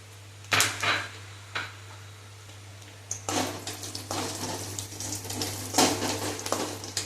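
Cashew nuts fry in a pan for a Kerala-style cherupayar parippu payasam, making a soft, continuous sizzle broken by louder bursts of stirring and clattering against the pan.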